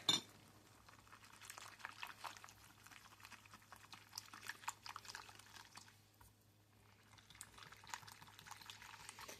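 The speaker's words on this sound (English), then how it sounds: "we're just using a whisk in a bowl" A whisk scrapes and taps quickly against a bowl, a steady close-up clatter with a brief pause partway through, no voices.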